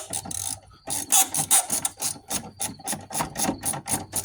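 Ratchet wrench fitted with a Pittsburgh and Snap-on socket turning a bolt, a close, loud run of rapid clicking pawl strokes in quick repeated bursts after a brief pause.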